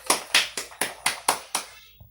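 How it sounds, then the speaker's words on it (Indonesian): A group of women participants in a training session claps together in unison, seven sharp, evenly spaced claps in a steady rhythm, ending with a faint trailing sound and no speech. "tepuk tangan"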